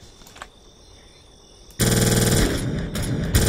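Rapid automatic Uzi fire in the GameGuru first-person shooter, a loud sustained burst that kicks in suddenly after a quiet stretch and rattles on continuously to the end.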